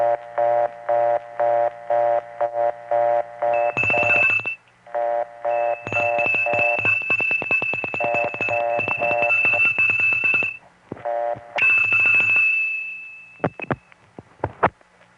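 Telephone trunk signalling from a 2600 Hz bell: repeated bursts of ringing and buzzing tones in a steady on-off rhythm, broken by sustained high whistle-like tones and clicks, loud and close with no talking.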